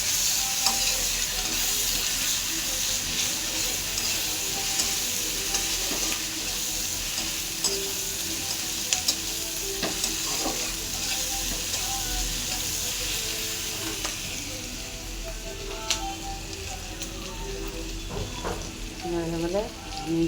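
Ginger garlic paste fries in a hot pan with a steady, close sizzle, while a utensil stirs and scrapes against the metal all the way through, with no voice over it.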